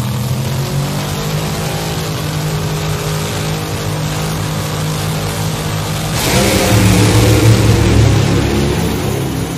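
Top alcohol dragsters, one supercharged and one injected, race side by side down a drag strip, their engines a loud sustained roar that surges louder and harsher partway through as the cars launch and pass.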